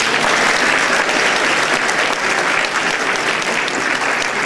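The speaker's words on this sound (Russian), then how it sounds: "искупать наших гостей аплодисментами" Steady, dense applause from an audience welcoming guests on a Russian studio show during Maslenitsa week, loud and continuous throughout with no one speaking over it.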